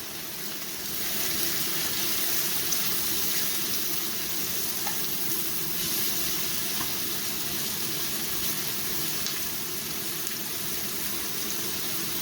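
Top round roast sizzling as it cooks in an air fryer, a steady broadband crackle and hiss holding evenly at moderate level for the whole stretch, with no voices over it.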